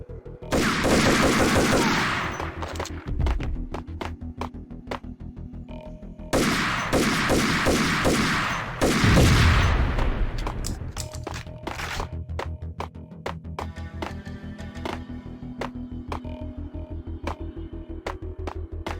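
Gunfire in the Max Payne video game: heavy bursts of rapid shots in two loud volleys, followed by a scattering of single sharp shots and clanks over a low droning hum.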